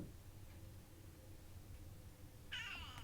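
A domestic cat gives a single short meow near the end, heard fairly close after quiet room noise.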